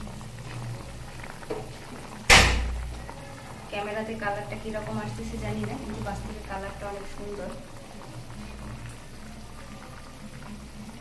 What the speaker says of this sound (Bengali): দেখুন ওইদিকে আমার ঝোলটা কত সুন্দর ফুটতেছে